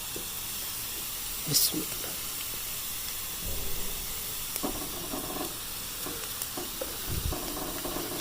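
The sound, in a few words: ginger garlic paste sizzling in hot oil with onions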